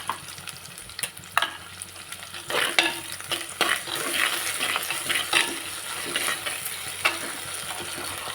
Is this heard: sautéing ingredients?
yes